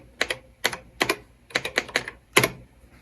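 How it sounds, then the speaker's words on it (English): Keys on an MSX retro computer keyboard with sticky keys are pressed in a short, uneven run of crisp clacks, about a dozen strokes in small clusters, close and alone with no talk. "I can even type a program. The keys on these just really stick."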